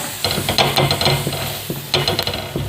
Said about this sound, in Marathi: मिरच्या टाकते भाजायला